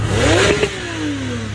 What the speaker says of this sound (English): Probably not the best car to be revving